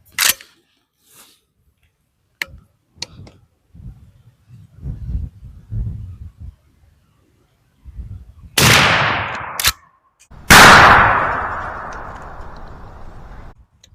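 A 12 gauge shotgun fires Federal Power-Shok 00 buckshot in 2.75-inch shells, with two loud close blasts that each ring out in a long fading tail after scattered faint clicks and handling noises.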